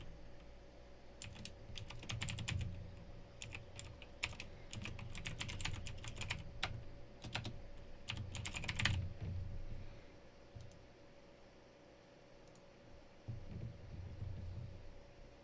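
Password keys tapped on a computer keyboard in quick irregular bursts with short pauses, close and clear over a faint steady background hum.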